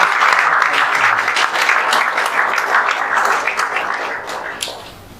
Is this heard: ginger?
no